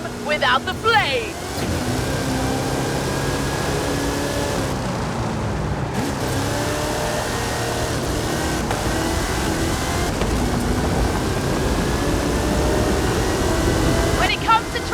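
Hot Wheels monster truck with a PEI XC1 chassis, 540 cubic inch Chevrolet engine and 66-inch Terra tires in the Forza Horizon 5 racing game, a loud continuous engine drone that rises and shifts in pitch, with brief shouting at the start.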